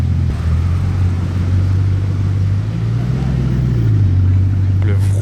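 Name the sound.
luxury sports car engine roaring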